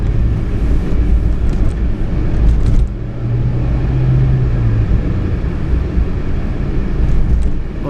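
A 1994 Subaru Sambar Dias Classic with an automatic CVT cruises through Amagasaki, Japan, giving a steady low engine and road rumble throughout, loud and continuous with no talking.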